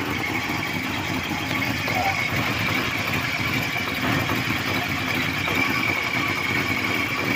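Toyota Kijang carburetor engine idling roughly and shaking, a close, steady, even drone with faint vibration and no speech.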